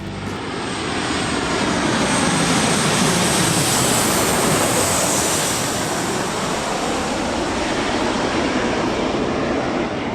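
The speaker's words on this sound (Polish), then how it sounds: "akurat lądował samolot i udało się coś fajnego nagrać" A fixed-wing airplane comes in to land at an airport near radio towers, its engine roar loud and steady as a broad, continuous rumble that swells slightly midway and carries on for the whole stretch, with no voices.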